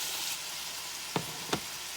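Beef browning in a pan for a classic stew, a steady soft sizzle with two sharp clinks of a utensil against the pan near the end, no voices.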